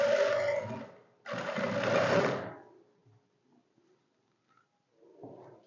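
A sewing machine stitches the shoulder seam of a simple shirt in two close, steady runs separated by a brief stop, then falls mostly quiet apart from a soft sound near the end.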